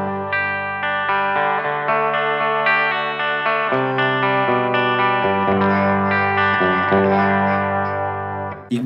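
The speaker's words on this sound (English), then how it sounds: "if you're playing on the bridge pickup and you're digging in, you can just push the amp a little bit" Electric guitar on a budget singlecut's bridge pickup, played hard enough to push the amp into mild overdrive, rings out with sustained, full chords and notes across the whole passage, loud and alone.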